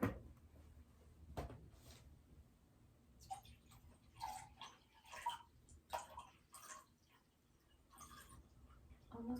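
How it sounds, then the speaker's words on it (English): Water is poured into a cup up close, with soft, irregular trickling and splashing bursts. A sharp knock comes near the start, and then the quiet gurgling swells and fades in uneven pulses. "I have this cup here, and I'm just going to pour some water."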